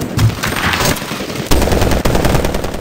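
Loud, rapid bursts of automatic gunfire rattle nonstop, close and dense, with no voices, in the video game Medal of Honor Warfighter.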